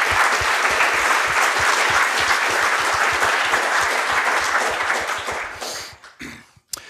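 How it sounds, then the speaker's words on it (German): Audience applause at a podcast gathering, dense and sustained clapping for several seconds before thinning out to a few scattered claps at the end. "das ist dein Applaus"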